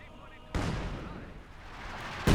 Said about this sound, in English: Returns fire with the Zis gun.